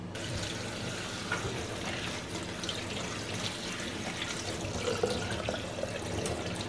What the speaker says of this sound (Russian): теперь нам необходимо всю нашу капусту тщательно промыть в холодной воде, прям каждый листочек